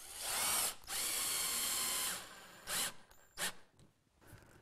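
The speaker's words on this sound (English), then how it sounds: "I'm just holding the stretches in place while I put these screws in into those pilot holes that we drilled earlier." A power drill drives screws into pilot holes in a wooden step stool, with two long whirring runs followed by short bursts and brief stops between them, close and clear.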